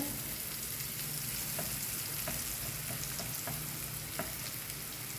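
Beetroot stir-fry being stirred in a pan over a steady background hiss and hum, with faint light scraping taps now and then and no voices.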